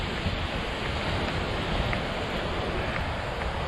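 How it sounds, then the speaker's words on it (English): Ocean surf on a secluded Puerto Rico shore near a natural pool in Isabela, heard as a loud, continuous broadband wash of breaking waves with some wind, no voices. "And here's the ocean."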